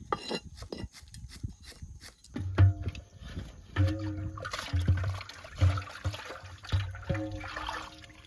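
Water lilies being washed by hand in water, with irregular splashing and sloshing in close bursts and short dripping trickles between them.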